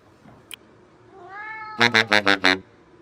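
A cat meows indoors in a kitchen: a rising drawn-out cry followed by a quick run of five loud, clipped meows in close succession, with a faint click just before.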